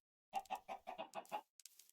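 Minecraft chickens cluck in a quick run of six evenly spaced clucks, clear and close, followed by a couple of softer, scratchier clucks trailing off at the end.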